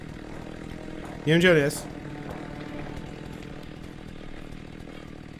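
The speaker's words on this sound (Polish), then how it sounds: "Słyszę twoją piłę." An enemy's chainsaw drones in a Slender-style horror game, a steady mid-distance buzz running under someone speaking Polish, with a brief loud vocal burst partway through.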